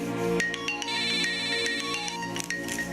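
A phone ringtone plays a bright, repeating electronic melody for an incoming call, steady and fairly loud throughout with no talking over it.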